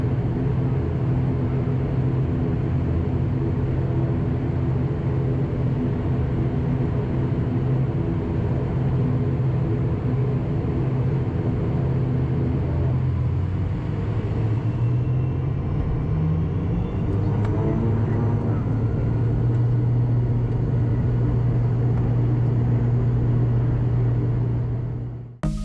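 Virgin Australia ATR-72-600 airliner taxiing and starting its takeoff, a loud continuous cabin rumble and turboprop drone that shifts in pitch midway as power builds.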